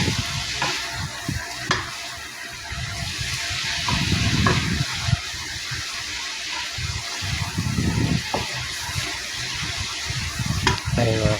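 Sautéed cabbage and scrambled egg in oyster sauce are stirred around a frying pan, with steady sizzling under repeated scraping strokes of the spatula, loudest in bursts toward the middle and end.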